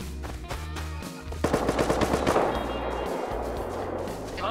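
A burst of rapid automatic gunfire erupts in a Rust firefight, a fast rattling string of loud shots over a low rumbling background, followed by a lingering echoing tail.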